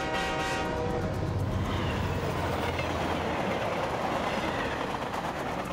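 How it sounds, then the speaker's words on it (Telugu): A cartoon train rushes past, loud and steady, with rumbling wheels, rattling cars and a horn blast near the start, filling the whole stretch with no talk. "గోటా మోటా ట్రైన్ వెళ్ళిపోయిందిరా."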